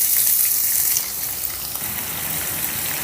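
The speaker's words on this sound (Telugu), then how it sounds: "ఇప్పుడు ఈ ఉల్లిపాయ ముక్కల్ని కొద్దిగా రంగు మారేంత వరకు వేపుకుందాం" Thinly sliced large onion with cumin seeds fries in hot oil in a pan, a continuous hissing sizzle that is loudest at the start and then settles to a steady, even crackle.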